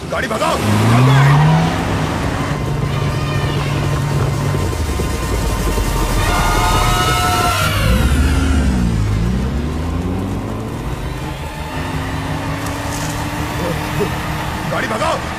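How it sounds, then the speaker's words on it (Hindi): A car engine revs and roars as the vehicle speeds off, pitch sliding up and down through gear changes, heard close and loud over background voices and commotion. "गाड़ी भगाओ, गाड़ी भगाओ, जल्दी।"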